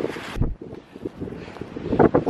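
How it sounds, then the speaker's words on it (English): Gusty wind buffets the microphone high up at an abandoned military base in uneven rumbling bursts, loud and close, with no voices. "Windy up here."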